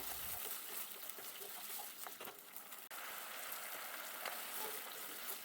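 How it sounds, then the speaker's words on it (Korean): Water dumplings cook in a pot of boiling water while being stirred, giving a steady close bubbling, sizzling wash with small splashes and taps and no talk. "중간에 물만두 서로 붙지 않게 살짝 휘저어주세요"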